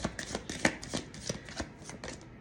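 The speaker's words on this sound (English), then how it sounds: "Let's give it 3 little shuffles." Tarot cards are shuffled by hand in a quick series of crisp, riffling bursts, close and clear, with no talking.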